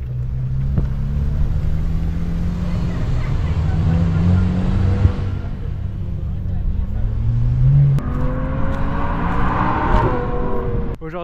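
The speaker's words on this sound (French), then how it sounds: "je suis au circuit de Trappes et j'accompagne mon pote Ulysse qui fait un baptême en 911 GT3" A Porsche 911 GT3 on the Trappes race circuit revs hard, its engine note climbing and falling through several sweeps, loud and fairly close, with a gear change and a renewed rising pull near the end.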